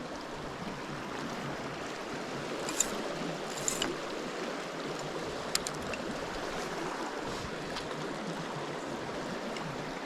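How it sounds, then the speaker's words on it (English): A small spate river flows steadily, a continuous close wash of water with a few faint clicks and taps over the top. No voices are heard. "As you can see, it's quite a small river."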